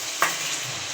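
Boiled meat tipped into frying masala in a home kitchen, a sharp sizzle burst as it hits the pan, then a steady hiss of frying with faint stirring.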